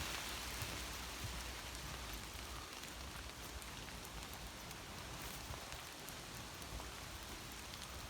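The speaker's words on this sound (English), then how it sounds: "Sorry for the rain." Steady rain patters down on a surface in a wood, a soft continuous hiss with scattered drops, no voices.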